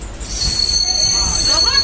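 A passenger train pulls into a station on a trip to Puri, its wheels giving a loud, sustained high-pitched squeal over a rumbling carriage.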